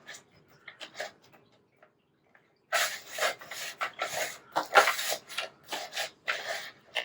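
Paper being cut for a floating tuxedo pocket book, a run of close, crisp slicing and rubbing strokes that start quietly and then grow louder and busier, with no talk over them.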